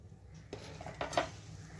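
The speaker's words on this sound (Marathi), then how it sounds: "थोडं बेसन टाकून आपल्याला मिक्स करायचं आहे।" A spoon clinks against a bowl while besan is stirred into a coriander kothimbir wadi mixture, a few quiet scraping taps close by.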